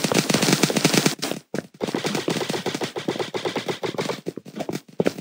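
Rapid automatic gunfire in a Roblox airsoft combat game, near and loud, with sustained bursts of fast repeated shots broken by a brief pause before firing resumes.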